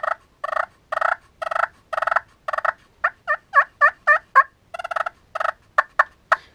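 Played with a lighter striker, a handmade wooden pot turkey call sounds a quick series of raspy yelps, then sharper, higher clucking notes and a few short cutts, loud, near and unaccompanied.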